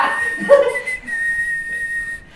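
A high, thin whistle made with tongue and teeth, no lips, held steady for about two seconds, close and clear, with a slightly airy, hissing quality.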